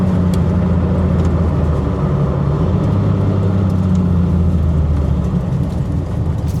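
Heavily built Buick Grand National on the road, its engine a loud, steady low rumble from inside the car with some mild throttle changes, and no voices.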